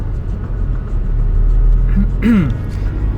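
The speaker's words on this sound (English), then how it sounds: "this bumper-to-bumper traffic is not improving my mood" Bumper-to-bumper road traffic rumbles nearby in a steady low drone, with one brief squeal rising over it partway through.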